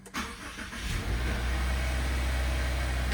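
A 2024 Subaru Ascent engine cranks briefly and catches, then settles into a steady, close idle that runs without talk.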